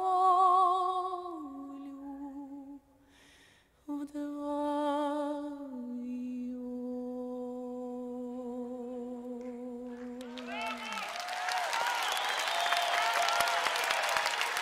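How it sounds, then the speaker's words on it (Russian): A concert audience at a school's 50th anniversary celebration bursts into loud, dense applause as a sustained sung folk melody ends, the clapping swelling in and continuing to the end. "Дорогие друзья, ваши аплодисменты."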